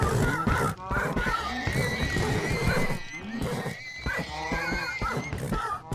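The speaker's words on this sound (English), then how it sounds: "Oh my god, look at the horses, guys." Horses whinnying repeatedly among cows, pigs and other passive mobs in Minecraft on PS4, several overlapping neighs at close range, with a busy wash of game sounds and no talk over them.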